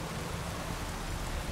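Steady rainfall in The Witcher 3 video game, a dense even hiss of drops with no voices, holding constant for the whole short stretch.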